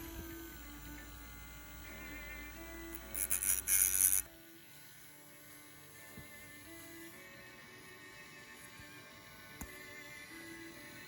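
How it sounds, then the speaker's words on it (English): A Dremel rotary tool fitted with a grinding bit grinds the burr off the axle of a Matchbox Beales and Bealeson 46b removal van. It gives a short, loud, high whine lasting about a second over a steady low hum. "So with the Dremel and the grinding bit, we will take it off."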